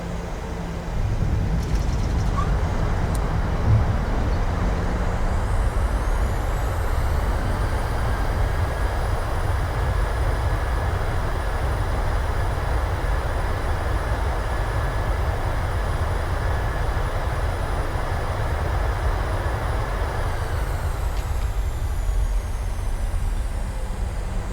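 A PMDG Boeing 737 rolls out and brakes after landing in a flight simulator, a steady loud rumble of wheels and engine noise with a faint rising and falling whine, sustained throughout.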